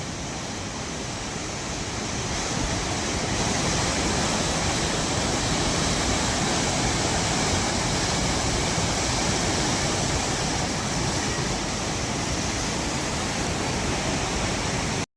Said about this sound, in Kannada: ನದಿಯ ರಭಸ ಭಾಳ ಜೋರಾಗಿದೆ